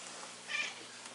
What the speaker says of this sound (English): I hear some meowing.